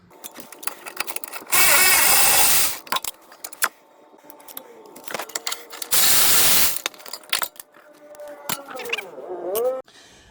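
A Milwaukee M12 cordless ratchet whirs in two loud, steady bursts of about a second each while loosening a bolt on a 2009 Honda Civic rack and pinion, between which come close ratcheting clicks and clinking tool handling; nobody speaks.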